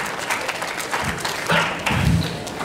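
An audience applauds to welcome a director at a school-related gathering, scattered claps and thuds building into a modest round of applause in a room, somewhat distant and uneven.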